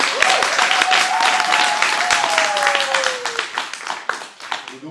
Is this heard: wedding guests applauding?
yes